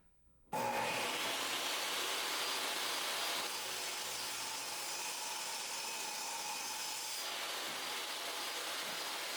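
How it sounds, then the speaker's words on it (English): Miter saw cutting hardwood pieces for a rustic tray, a loud continuous whine that starts abruptly and holds steady for about nine seconds, close by with no talk. "The pieces that are too long, I'm cutting with the miter saw."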